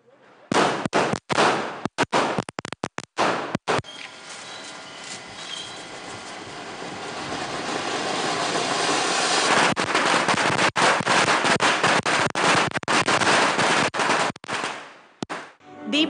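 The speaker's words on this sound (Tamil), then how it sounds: "காலையிலேயே மக்கள் பட்டாசுகளை வெடித்து மகிழ்ச்சியுடன் தீபாவளியை கொண்டாடினர்" Firecrackers bursting in the morning during a Diwali celebration in Tamil Nadu, with dense rapid crackling strings of loud pops that run nearly continuously, building to a sustained roar of bursts before tapering off.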